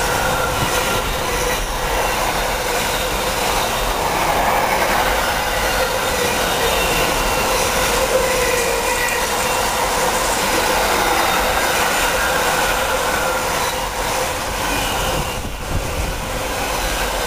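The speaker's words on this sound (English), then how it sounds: "Got a second container train of the day now" A long container freight train rumbles past close by at a station, steady roaring wheel noise with rhythmic clatter and occasional metallic squeal throughout.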